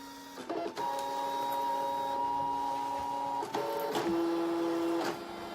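A Brother ScanNCut electronic craft cutting machine whirs steadily with a tonal electric hum, a couple of clicks marking shifts in pitch as it moves.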